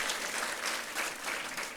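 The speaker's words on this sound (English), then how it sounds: "Have a round applause for yourself first." An audience at a guest lecture applauds throughout, dense steady clapping from many hands that stays even from start to finish, with no voices over it.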